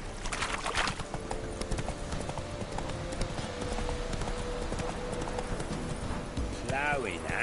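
Hoofbeats of Roach, the horse in The Witcher 3, in a steady galloping clip-clop that runs throughout, with game music and a voice heard in the background.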